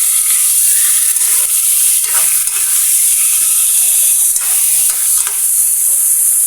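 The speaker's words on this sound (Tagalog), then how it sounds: "Magigisa natin mga sis." Chicken sautéing in a pan for tinola gives a steady, close sizzle and hiss throughout, with faint stirring scrapes and no talking.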